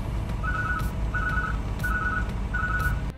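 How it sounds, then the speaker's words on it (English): A multi-tone electronic alarm on an Oshkosh S-Series truck sounds before the pusher or tag axle deploys: four evenly spaced, bright warbling beeps over a constant low engine idle. "If the vehicle is stationary and the park brake is applied, a multi-tone alarm will sound"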